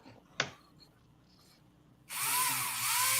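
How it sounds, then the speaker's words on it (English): A small hand drill bores into a scale model part, starting abruptly after a quiet pause and a single sharp click, then whirring loudly and steadily to the end. "I'm drilling."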